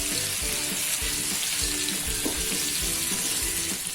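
Potatoes frying in ghee for a wheat-flour vegetable Maggi keep up a continuous crackling sizzle close by, with faint rhythmic thuds and clinks of a spoon against the pan and no talk.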